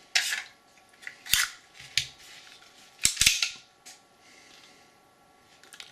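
A .50 caliber Desert Eagle pistol is handled to show it is empty, giving a series of sharp metallic clicks and clacks of the slide and action, spaced irregularly and heard up close.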